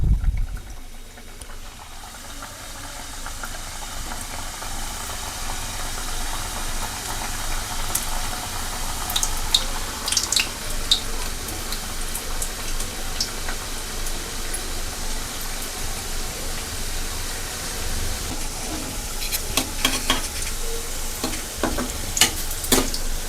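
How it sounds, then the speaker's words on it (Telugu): Wheat flour biscuits frying in hot oil, a steady bubbling sizzle that carries on throughout, with occasional crackles and soft stirring clicks near at hand. "ఆయిల్ అయితే వేడైంది. ఇప్పుడు ఆయిల్ అయితే బిస్కెట్స్ వేద్దాం."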